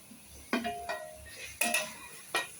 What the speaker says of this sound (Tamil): காய்கறியை போட்டு கொஞ்சம் நேரம் நல்லா வதக்குவோம்